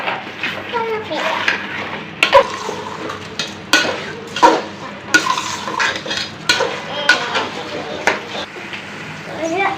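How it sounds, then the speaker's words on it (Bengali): Rice is stir-fried in a spice mix for chicken pulao, with repeated scraping and clinking of a spoon against the pot over a soft sizzle, close up, while a voice and other speech are heard. "চাউলটা মশলা মধ্যে কষিয়ে"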